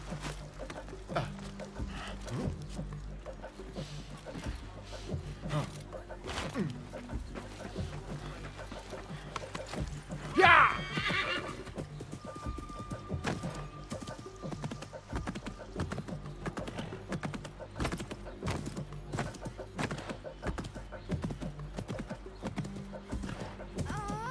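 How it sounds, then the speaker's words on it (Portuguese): A horse in the Assassin's Creed Mirage video game clip-clops steadily through a city, with one loud neigh midway, and its hooves keep a regular rhythm throughout. "Só o cavalo dentro da cidade é meio estranho, né?"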